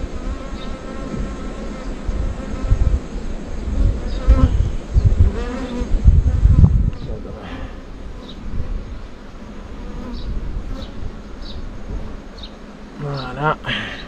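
A colony of honeybees from a recovered swarm hums steadily over a hive frame in a Mafate apiary on Réunion, a close, continuous buzz with a voice speaking quietly over it.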